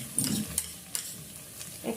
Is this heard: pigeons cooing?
no